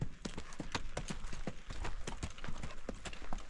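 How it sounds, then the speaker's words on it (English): Hooves of a Fox Trotter horse strike in an even four-beat gait on a trail, sharp close clops in a rolling rhythm without talk. "You can hear that rhythm. Yeah, you get into it. You just kind of like. Yeah, it's a four beat gait."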